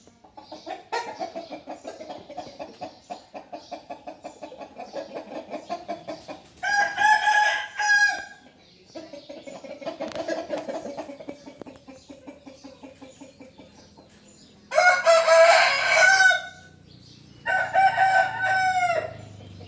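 A Thai fighting rooster crows loudly and close by, three long strained crows spaced across the stretch, with steady clucking and softer fowl calls between them and no talking.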